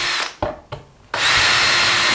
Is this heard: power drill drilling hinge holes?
yes